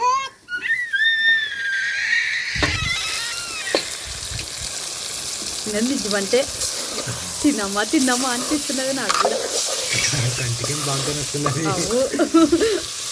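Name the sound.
mushroom curry frying in a pan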